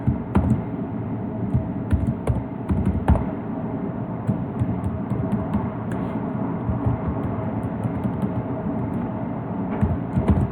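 Someone types on a computer keyboard while writing HTML, a continuous stream of close, quick clicking keystrokes with occasional louder taps, heard alone with no talk.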